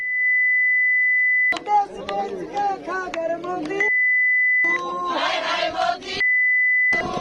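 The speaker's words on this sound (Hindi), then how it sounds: "हमने बीप किया" A steady censoring beep in a Hindi TV news debate on the farmers' protest, masking a slogan. It sounds alone at the start, then cuts in again between bursts of shouted chanting and talk, and once more at the end.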